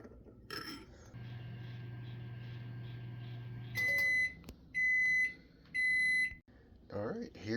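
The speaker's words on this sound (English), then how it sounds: "Pop it in the microwave." A microwave hums steadily, then gives three loud, evenly spaced beeps, with a faint voice near the start.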